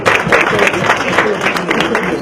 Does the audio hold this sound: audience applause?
yes